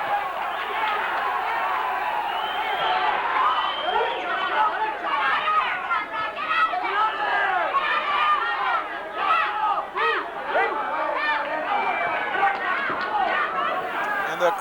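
Boxing crowd at a pro fight between local fighter Conrad Maes and Argentinian Oscar Ponce, a steady dense roar of chatter and shouting voices filling the arena, loud and continuous with rising swells throughout.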